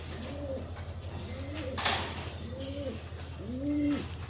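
A racing pigeon coos nearby in four soft, rolling calls, each a throaty rising-and-falling murmur, with a brief rustle between them and low background hum.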